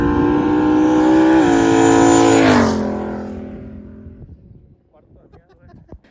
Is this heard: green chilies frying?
no